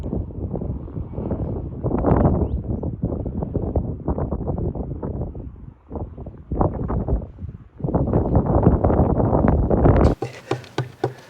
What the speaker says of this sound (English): I'll use the other microphone briefly, the one without the wind muffler on it, so you can just hear and see how strong this wind is